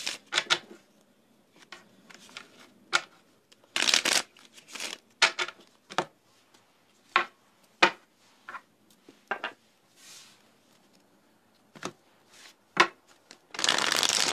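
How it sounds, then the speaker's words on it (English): Tarot cards shuffled close by in repeated quick riffling bursts of crisp paper flutter, separated by short pauses, with a longer sustained shuffle at the end and no talking. "I'm going to go ahead and shuffle."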